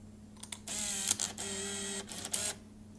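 Film advance motor of a Minolta TC-1 compact film camera, a single muffled whirring wind of about two seconds with soft clicks at the start and end, close up and on its own.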